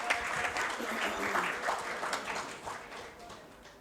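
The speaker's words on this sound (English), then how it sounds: "Can we have a round of applause, guys, please?" A conclave audience at IILM Lodhi Road claps for the winning quiz team, a fairly faint, brief burst of crowd applause that gradually fades out.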